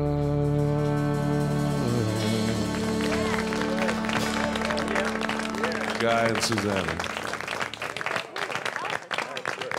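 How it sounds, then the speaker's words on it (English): Audience applause and cheering break out at the end of a live country song, a loud steady wash of clapping that runs under a voice speaking over it. "You know who was cheering the loudest for you in there?"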